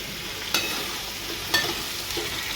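Raw banana curry cooking with salt in a pan over a low flame, a steady soft sizzle running throughout with two sharper stirring clinks near the start and middle.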